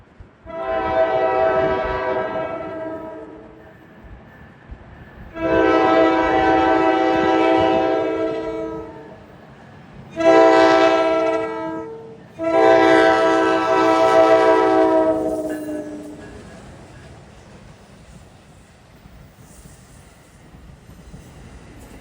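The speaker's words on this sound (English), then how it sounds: "At 11:39 a.m., the gates are going down for train 1111" Commuter train 1111, running Hoboken to Suffern with a diesel locomotive leading, passes a lowered grade crossing on the former Erie Main Line in northern Bergen County, New Jersey. Its horn sounds loud and near in four long blasts, and rail noise fades afterward.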